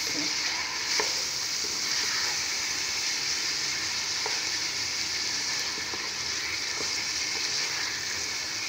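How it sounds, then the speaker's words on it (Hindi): Noodles being mixed with salt in a pan, a steady close frying sizzle with soft stirring scrapes running throughout, no talking. "टू टीस्पून हम इसमें नमक ऐड और इसको करेंगे अच्छी तरह मिक्स"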